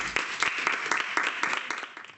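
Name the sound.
applause for a student speaker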